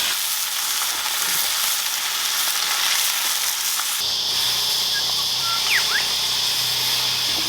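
Lamb and rosemary sausages with streaky bacon fry over a campfire, giving a steady, close sizzle and hiss that fills the whole clip with no talking.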